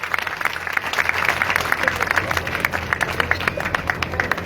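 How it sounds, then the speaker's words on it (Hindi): A crowd at an outdoor political rally claps to welcome a BJP candidate, brisk and fairly loud, with distinct individual claps standing out over a low hum of voices. "एक बार जोरदार तालियों से स्वागत करो भाई।"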